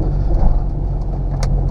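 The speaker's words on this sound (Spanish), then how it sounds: "Aceleramos aquí, pues obviamente para que el carro no se cuelgue." A manual-transmission car in second gear accelerating up a hill toward a stop sign, its engine giving a steady, loud mid-range drone close by, with no talk.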